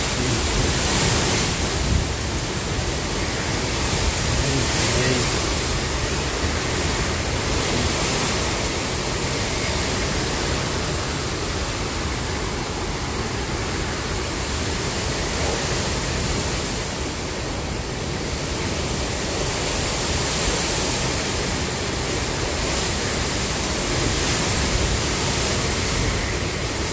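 Strong hurricane wind from Hurricane Ian roars steadily without a break, a loud broadband rush buffeting the microphone, with no speech over it.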